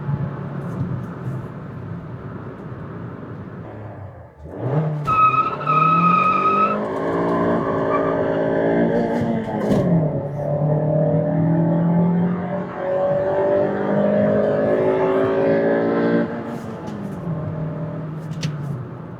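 A fourth-generation Honda City engine roars as tires spin and squeal in a long, wavering screech during a launch, loud and close, gradually easing off near the end.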